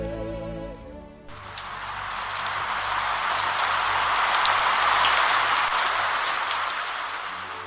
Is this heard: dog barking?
no